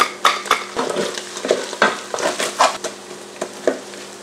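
Tofu frying and sizzling in a pan while being stirred, with a steady crackling hiss broken by several sharper scraping stirs and light utensil knocks; no voices.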